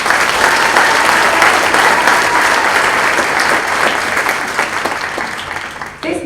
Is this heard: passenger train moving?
no